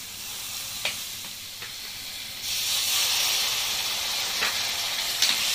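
Spice paste with capsicum paste added frying in a pan for a Bengali shol fish curry, a steady loud sizzle and hiss that swells partway through, with occasional clicks of stirring.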